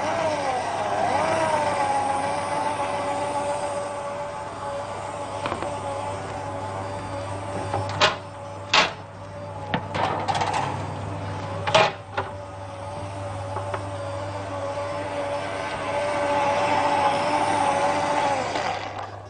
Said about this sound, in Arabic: نبدا نشغل العجان.